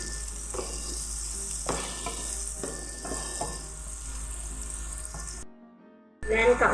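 Garlic and green onion frying and being stirred in a pan, a steady sizzle with repeated scraping strokes of the utensil, then a brief drop to near silence before a louder burst at the end.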